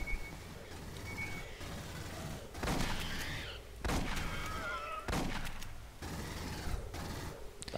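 Smart gun fire in the video game Aliens: Colonial Marines, several loud bursts of rapid automatic shots with brief pauses between volleys, dense and close.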